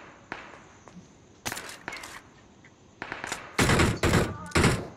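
Bursts of gunfire in the BGMI video game, several quick sharp volleys that grow louder and denser toward the end, heard over faint background game noise.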